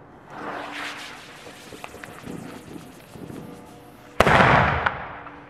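A single dull, muffled firecracker bang, close by, after a stretch of wind and rustling outdoor noise, followed by a brief rumbling tail.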